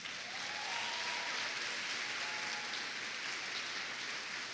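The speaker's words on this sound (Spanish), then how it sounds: "Denle un aplauso a las mujeres, ¿vale?" Church congregation applauding women during a sermon, a steady dense clatter of clapping held evenly for several seconds without a break.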